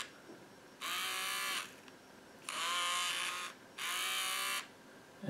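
Pleo robot dinosaur toy motor whirring in three separate bursts with short pauses between, a bright, steady buzzing hum from each small servo motor, close and alone.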